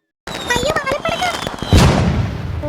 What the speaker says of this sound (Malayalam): അയ്യോ മാലപ്പടക്കം